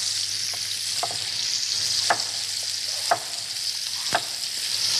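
Pork neck meat frying in a pan, a steady bright sizzle throughout with a few soft clicks of stirring at roughly one-second intervals, close and without speech.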